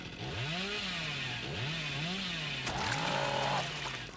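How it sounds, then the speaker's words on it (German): Chainsaw from the horror video game Dead by Daylight, with a revving engine whose pitch rises and falls in repeated surges over steady game background noise, without any speech. "Ist doof, wenn es mal nicht klappen will mit der Kettensäge."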